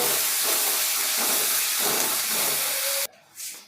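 Garlic, ginger and green chili paste fries with onions in a kadahi for dhaba-style dum aloo, giving a loud, steady sizzle and hiss that cuts off sharply near the end, followed by a short fainter hiss.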